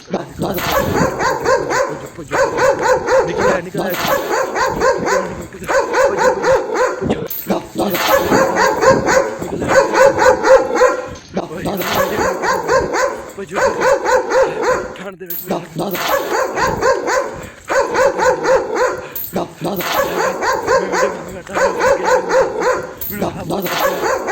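A dog in a village barks in steady repeated bursts, loud and near, with short yips and whimpers through a long stretch. Voices are present in the background.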